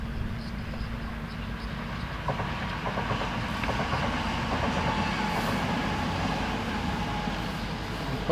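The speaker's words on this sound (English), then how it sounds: "Probably hear the train going by." A train rumbles past on the South Coast main line between Brighton and Portsmouth, a steady close roar with rhythmic clickety-clack of wheels over rail joints lasting throughout.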